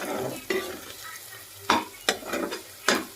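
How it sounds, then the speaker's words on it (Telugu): Ginger garlic paste and onion fry in a pan, giving a steady sizzle broken by several sharp scraping stirs close by, with no talking. "ఇవన్నీ ఒకసారి అల్లం వెల్లుల్లి పేస్ట్ పచ్చివాసన పోయే వరకు ఒకసారి వేసుకోవాలి."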